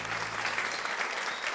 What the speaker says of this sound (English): Everybody's cheering and crying at the same time out there